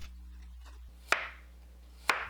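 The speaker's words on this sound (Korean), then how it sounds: "너무 큰 청경채는 4등분 하면 좋아요" A knife chops through a large head of bok choy on a cutting board, quartering it with two sharp, isolated thuds about a second apart, close and fairly quiet.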